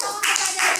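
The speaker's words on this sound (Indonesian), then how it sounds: "Kita beri tepuk tangan kepada Riyandi" Classroom clapping for a student named Riyandi, a short burst of brisk hand claps from pupils, close and fairly loud, in two quick swells.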